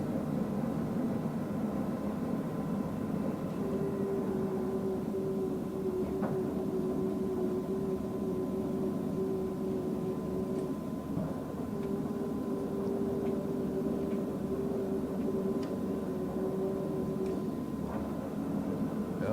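A TOS SUS 80 engine lathe, a 33-by-140-inch machine, runs steadily at speed with a constant low mechanical drone and a faint sustained tonal whine, loud and unbroken with no voices.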